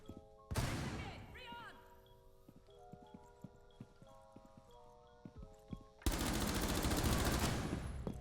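Two loud bursts of rapid automatic gunfire from the video game Rainbow Six Siege, one short volley near the start and a longer sustained one at the end, separated by quieter tonal in-game sounds and faint clicks.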